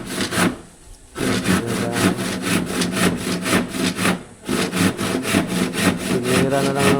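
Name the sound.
saw cutting a wooden door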